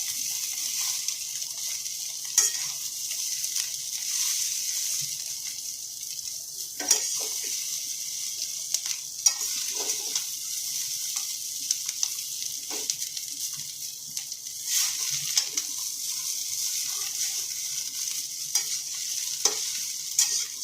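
Chowmein with fried egg and vegetables being stir-fried in a pan, an even oily sizzle throughout with occasional clinks and scrapes of the spatula tossing the noodles.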